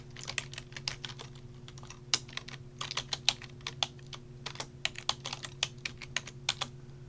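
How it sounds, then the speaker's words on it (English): Steady typing on a computer keyboard at a terminal shell, a quick irregular run of crisp key clicks close to the mic over a low constant hum, with no talking. "I will type like this."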